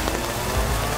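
Rain falls heavily through a storm at a survival camp, a dense, steady hiss of drops hitting surfaces close by, with a brief low thump partway through and no voices.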